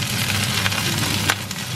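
Cauliflower florets fry in a pan on the stove, giving a steady, close, continuous sizzle with small crackles and no talking.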